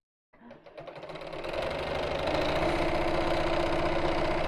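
A sewing machine starts up and runs steadily along a seam, close and loud, building to an even continuous whir with no voices.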